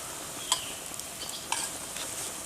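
Steady sizzling of food frying over a campfire in a forest, with a couple of brief metallic clinks as it is stirred.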